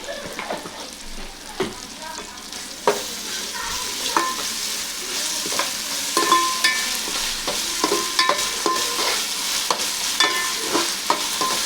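Ginger fries in oil in a pan for Telangana-style bagara chicken curry. It gives a steady sizzle broken by repeated scraping stirs and sharp clicks of a spoon against the pan, with no talking.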